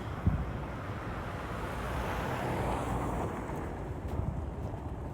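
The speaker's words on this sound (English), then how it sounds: "I can go after this car goes by." A car passes on a downtown street in Regina in February, a soft rising and falling road hiss under steady wind and microphone rumble, fairly faint and without talk.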